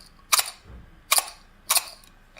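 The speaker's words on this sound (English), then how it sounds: "I have a little jar of pepper from my kitchen." A little kitchen jar of pepper shaken three times in an even, slow rhythm, each shake a crisp, bright rattling burst, close and alone.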